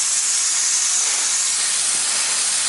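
A hose runs hot tap water onto a muddy classic bicycle, producing a loud, steady hiss of spray up close, unbroken for a few seconds.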